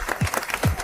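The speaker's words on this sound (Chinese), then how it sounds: "台下掌声雷动。" Applause from an audience at an animated award ceremony, a brief burst of clapping that is moderately loud and steady, with a faint voice underneath.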